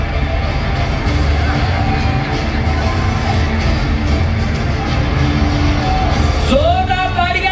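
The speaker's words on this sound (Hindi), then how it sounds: "जोरदार तालियां जोरदार तालियां big hand for Richa Sharma" Crowd at a Punjabi stage event with a performer named Richa Sharma, loud continuous roar of cheering, shouts and whoops in a dense mass, with a voice rising above it near the end.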